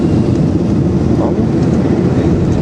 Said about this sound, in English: Thrust reversers.